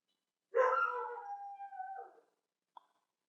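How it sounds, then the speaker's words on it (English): A pet dog at home lets out one drawn-out, whining howl-bark lasting over a second, fairly close and alone in quiet, followed by a brief faint yip. "That's my dog."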